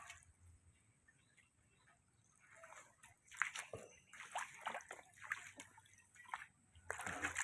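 Floodwater splashing and flowing beside a piggery, a steady soft wash with bursts of sloshing and splatter that grow louder midway, heard at close range with no talk over it.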